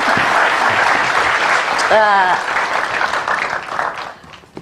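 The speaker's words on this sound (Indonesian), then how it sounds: "Kita boleh tepuk tangan sekali lagi untuk Mbak Ani" Studio audience applause on an Indonesian TV talk show, a loud dense wash of clapping that fades toward the end, with a brief voice cutting through the middle.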